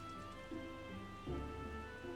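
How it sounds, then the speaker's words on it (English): Steady rain falls in the Final Fantasy XIV game world during the All Saints Wake event, a soft continuous patter with low swells, alone and without talk. "Just wish it weren't raining."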